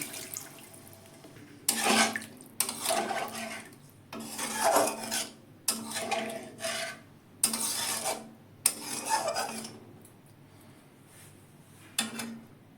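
Potato boiling water is poured from a pot into a curry pan in bursts, several separate splashing pours with clatter from cookware between them, close and fairly quiet.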